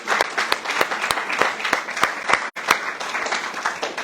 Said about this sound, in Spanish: Le damos un aplauso a ese Dios hermoso.